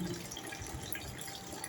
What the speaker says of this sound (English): So I'll be draining the water. You do it gently.